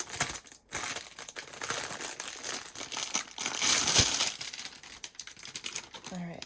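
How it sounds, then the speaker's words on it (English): Plastic bag from a diamond painting kit crinkling and rustling close up during unboxing, a dense run of crackles with louder crumples through the middle. "And then it comes in this plastic bag."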